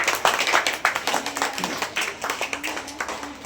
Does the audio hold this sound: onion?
no